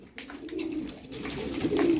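Pigeons cooing nearby, a soft low warbling coo rising toward the end amid faint background noise.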